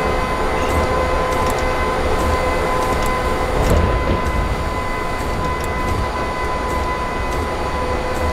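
A long train in Train Simulator 2016 rolls along the track under braking, a loud continuous rumble with faint rhythmic wheel clicks and a brief swell midway, alone without speech.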